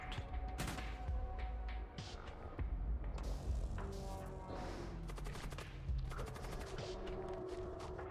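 Gunfire in the video game Void War: repeated bursts of rapid shots and heavy impacts over a low throbbing hum, fairly close and continuous throughout.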